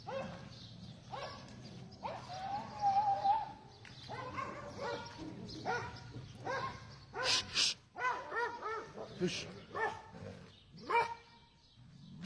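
Stray street dogs bark repeatedly in surveillance camera footage of an attack on children, a cluster of sharp barks and yelps at varying distances in an irregular, agitated rhythm.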